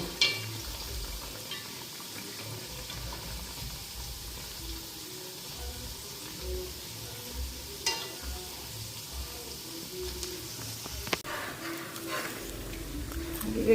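Oil sizzles steadily as pakoras fry, a continuous crackling hiss with occasional small clinks and a sharp tap near the end.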